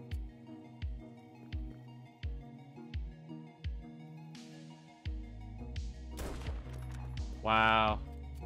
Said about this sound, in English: Someone's shooting at me already.